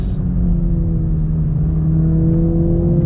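A 2022 Toyota Supra 2.0 engine hums steadily under acceleration, its tone sliding gradually as the 8-speed automatic changes gears quickly and smoothly, heard close from inside the car.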